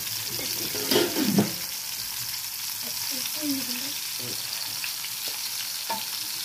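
Brinjal pieces fry in oil in a pot with a continuous close sizzle, and a few soft stirring clinks and splashes sound near the start.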